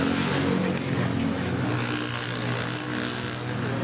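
A plane arriving at Manila Airport from Puerto Princesa, heard as a loud, steady jet roar with a low rumble and droning tones that hold for the whole clip.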